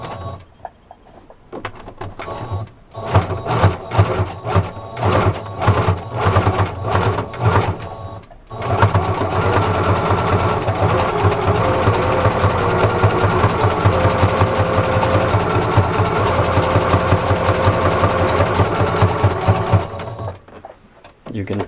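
A sewing machine runs a zigzag stitch through a dish-washing sponge: first several short bursts of stitching, then one long continuous mechanical clatter, close and fairly loud, before it stops near the end.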